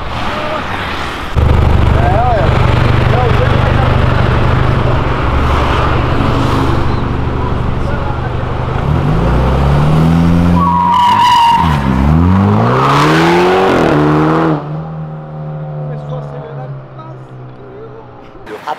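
A Chevrolet C10 pickup with a V8 engine revs hard and slides sideways on a city avenue, tires squealing loudly as the engine roars, then fades as the truck moves away.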